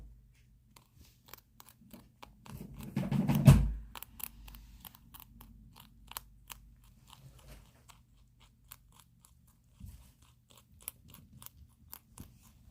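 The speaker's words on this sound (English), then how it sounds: "You can hear munching from like a mile away, can't you?" A pet rabbit named Gerry munches food close by, rapid small crunching bites in quick irregular bursts with a louder rustle early on, then softer steady nibbling in a quiet room.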